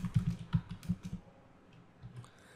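Typing on a computer keyboard during a Photoshop design session: a quick run of close, distinct key clicks that tapers into a few softer, scattered taps, with no talk.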